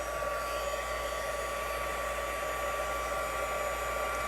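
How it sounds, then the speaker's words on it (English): A heat tool for embossing melts white embossing powder with a steady, loud fan-like whoosh and hum, unchanging throughout and heard alone without talking. "Once the heat tool heats up really well, it's going to go quickly."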